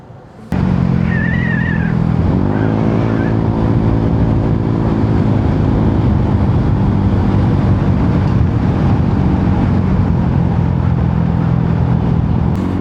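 A motorcycle on a ride toward Baler gives a loud, steady engine drone that swells after a brief start, its pitch rising as it accelerates and then holding constant with wind rush, with no talk.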